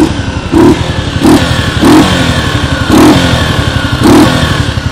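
A motorcycle engine revved hard in repeated blips, about five throaty bursts roughly a second apart over a continuous loud idle rumble, very close and loud.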